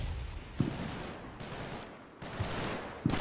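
German mortar fire in the Combat Mission: Battle for Normandy video game, with sharp impacts and blasts breaking through a dense, rumbling battle din, three or four hits spaced over a few seconds.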